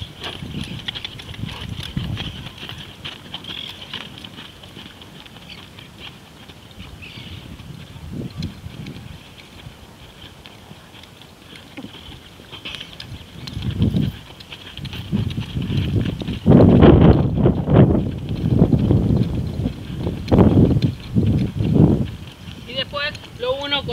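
A horse's hooves clop irregularly as the animal is turned under rein, loudest in the second half, with wind rumble across the microphone.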